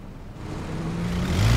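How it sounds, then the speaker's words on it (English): A motorcycle engine in the video game PUBG rises steadily in pitch and loudness as it revs and approaches, a short mid-range growl building to a louder drone, with no talking. "I hear the motorcycle again."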